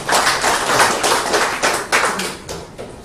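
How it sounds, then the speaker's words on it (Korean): Applause from a forum audience at a political lecture, a dense steady patter of many hands clapping that swells and fades in waves, filling the room at close range. "박수 한번 보내주세요."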